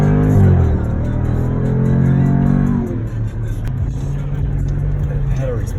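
A 2019 Dodge Durango SRT accelerates hard from a launch, its engine note loud and rising through the first few seconds before settling into a steady lower roar, heard close from inside the cabin.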